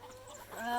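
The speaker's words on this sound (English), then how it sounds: "take care of the chickens, River?" Chickens in a backyard garden coop and run, clucking softly at close range, a short soft burst that builds toward the end.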